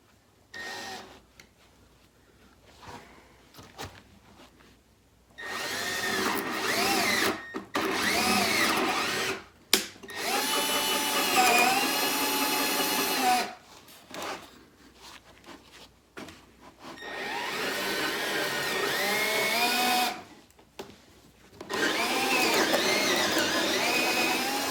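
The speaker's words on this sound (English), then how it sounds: "Guess drilling through 3 inches of wood takes some" A cordless drill whines in repeated bursts with pauses between, its pitch grinding and straining as it bores through about 3 inches of wood, close and loud.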